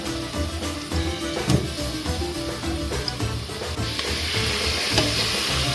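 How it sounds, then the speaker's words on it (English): Steady sizzling and crackling of onion wedges frying in olive oil, loud and close, with occasional stirring clatter and no voices. "4 onions cut into wedges into some olive oil. We're just frying them off."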